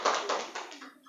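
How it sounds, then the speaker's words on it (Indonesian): Brief scattered clapping from a small group in a classroom presentation, a few quick bursts of hands fading out within about a second. "Jadi tepuk tangan untuk kelompok 2."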